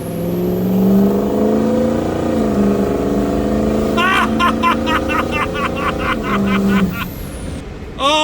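A Ford diesel pickup truck with new injectors and an upgraded FICM accelerates at wide open throttle, its engine droning loud and steady with a rising whine, joined near the end by a brief high chirping tone.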